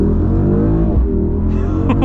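A 2023 Mercedes GLS 63 AMG's V8 exhaust burbles and rumbles steadily while accelerating, heard up close from inside the car, with a brief rise in pitch toward the end.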